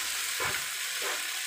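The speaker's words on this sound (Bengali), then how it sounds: "দিয়ে ভালোভাবে নাড়াচাড়া করব, নাড়াচাড়া করে ভালোভাবে ভাজব" Chopped boiled egg is stirred and fried in a pan, with a steady close sizzle throughout and two brief scraping stir strokes rising over it.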